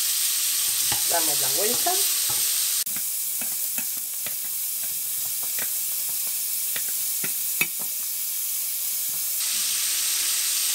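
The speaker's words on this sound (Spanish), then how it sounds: "voy a saltear ligeramente nuestros calamares" Squid rings sautéed in a large frying pan give a steady close sizzle and hiss, broken by sharp clicks and scrapes of stirring and tossing, with one brief spoken line in the middle.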